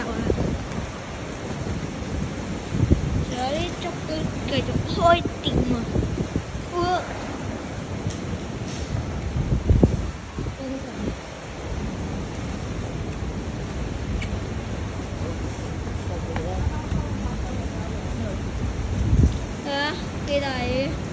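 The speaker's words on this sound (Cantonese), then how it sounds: "好大風，橫風橫雨" Gale-force typhoon wind roars and buffets the microphone on a city street under a No. 9 signal and a rainstorm warning, gusting in surges with rain noise, while people talk throughout.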